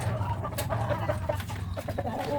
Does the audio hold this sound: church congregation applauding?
no